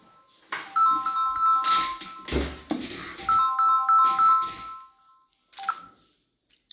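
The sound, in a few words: office telephone ringing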